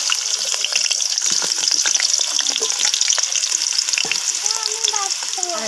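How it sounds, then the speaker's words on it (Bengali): Potatoes dropped into hot oil crackle and hiss in a loud, continuous sizzle, with sharp spattering pops scattered throughout and a few faint squeaky chirps toward the end. "যে তেলগুলা গরম হয়ে গেছে আমি প্রথমে সবজিগুলা ভেজে নিব যে আমি প্রথমে আলুগুলা দিয়ে দিচ্ছি"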